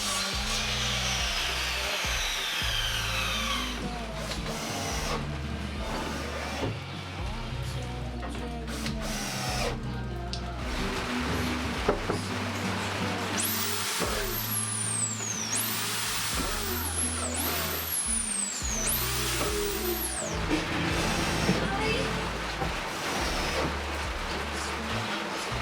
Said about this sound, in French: Ensuite je coupe les nouvelles planches qui vont se fixer derrière les tôles,